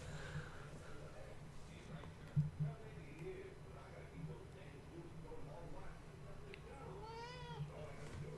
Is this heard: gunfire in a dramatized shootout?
no